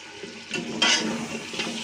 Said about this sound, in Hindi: हल्का हल्का सा पानी भी डालेंगे।